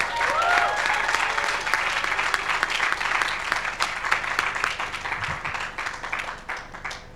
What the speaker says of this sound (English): let's also give him a round of applause right now